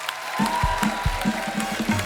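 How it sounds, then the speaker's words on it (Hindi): A studio audience on a comedy show applauds the performers, a steady wash of clapping over a thumping rhythmic beat. "एक बार जोरदार तालियां हो जाएं हमारे कलाकारों के लिए"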